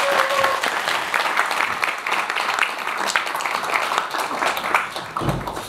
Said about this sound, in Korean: 여러분 따뜻한 박수 부탁드립니다.